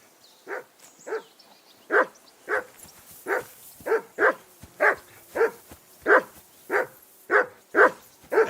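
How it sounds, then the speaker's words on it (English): A dog barks again and again inside the video game Kingdom Come: Deliverance II. The barks come in a steady, evenly spaced run of about a dozen, each clear and mid-loud, with no voices over them. "Whistle at that mutt of yours to stop barking!"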